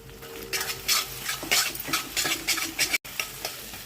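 Beaten eggs frying with salt, sauce and soy sauce, stirred before noodles go in: a loud, constant sizzle broken by rhythmic scraping strokes of a utensil against the pan, with a brief cutoff near the end.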